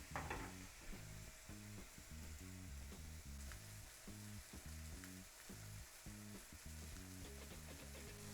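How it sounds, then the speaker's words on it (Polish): Burgers sizzle and crackle in a frying pan, a steady, close sizzle underneath a low rhythmic thumping beat. "Będziemy sobie smażyć je na patelni"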